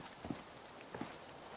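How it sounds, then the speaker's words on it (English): Steady rain falls in the video game RuneScape: Dragonwilds, a soft continuous hiss with a few faint patters and drips, quiet and even throughout. "It is raining in my house."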